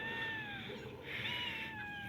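A cat meows in drawn-out, rising and falling wails, a few in a row, fairly faint against a quiet background.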